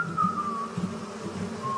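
Honeybees buzzing at a hive, a close, steady insect drone with a higher whining tone drifting through it.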